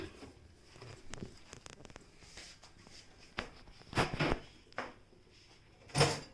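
A few scattered clicks and knocks, then a sharp thud near the end as a microwave door is pushed shut close by.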